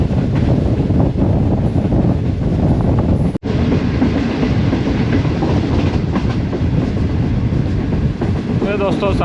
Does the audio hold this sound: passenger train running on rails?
yes